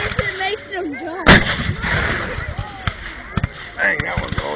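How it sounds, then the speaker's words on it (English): Cannon firing at Pilot Knob: one loud, sharp boom near the start with smaller bangs after it, heard over ongoing talk and background chatter. "They're trying to see how loud their cannons are."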